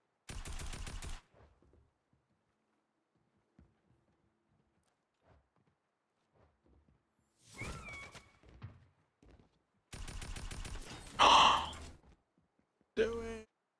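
Bursts of Fortnite gunfire arrive in sharp clusters near the start and again late on, with one loud crack near the end. Long quiet gaps fall between them, broken by faint thuds and a few spoken words.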